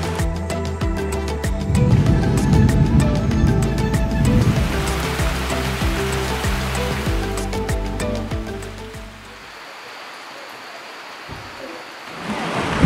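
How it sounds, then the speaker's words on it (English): Heavy rain pouring in the Peruvian Amazon rainforest, a dense loud hiss with rattling hits on nearby surfaces, easing slightly toward the end, with no talking. "it's still raining very hard"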